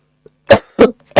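A person coughs three times in quick succession, each burst short, harsh and close, with brief silence between them during an English vocabulary class.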